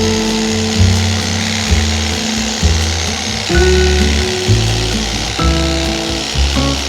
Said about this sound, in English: I love using an electric knife for cutting bread.